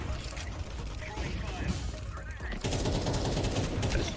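Rapid gunfire from the Counter-Strike 2 video game, played on the Inferno map, bursts of shots and mechanical clatter under a person talking, busier and louder in the second half.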